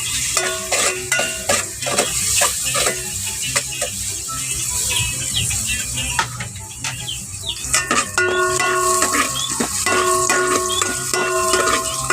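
Garlic and onion fry in hot oil with a bright, continuous sizzle, broken by frequent clinks and scrapes of a utensil stirring in the pan, close and fairly loud throughout.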